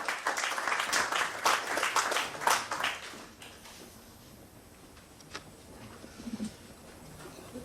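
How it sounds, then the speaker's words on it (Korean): Audience at a Korean book launch event for Reset Korea applauds to welcome a pension reform panel chair to the stage, a dense burst of clapping for about three seconds that quickly fades into quiet room tone with faint scattered noises. "박수로 환영해 주시기 바랍니다."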